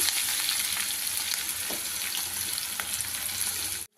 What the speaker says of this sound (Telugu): ఆనియన్ ఫ్రై అయిపోయింది